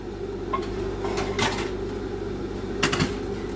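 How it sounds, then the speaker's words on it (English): A small frying pan being pulled out in a home kitchen for cooking, with two brief clattering knocks of metal and cupboard sounds over a steady background hum, no talk. "And then I'm going to get a little fry pan out"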